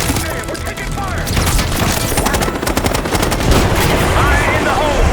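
Sustained gunfire in Call of Duty: Black Ops 6, with loud, dense bursts of rapid automatic shots cracking continuously alongside heavier booms and battle noise, and voices calling out over the din.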